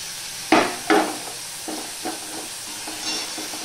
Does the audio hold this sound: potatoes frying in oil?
yes